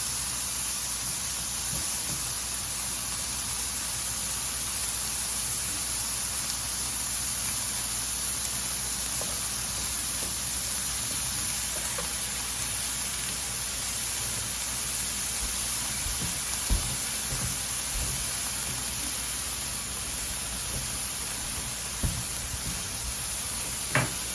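Chopped green pepper and onion sautéing in a pan, a steady broad sizzle and hiss running evenly throughout, with a few faint knocks toward the end.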